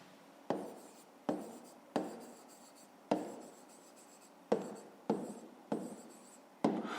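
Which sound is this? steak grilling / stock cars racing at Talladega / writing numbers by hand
writing numbers by hand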